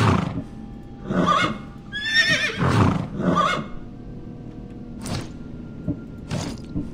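A horse whinnies loudly several times in quick bursts in Assassin's Creed Odyssey, followed by softer snorts and occasional hoof-like thuds, with no talking.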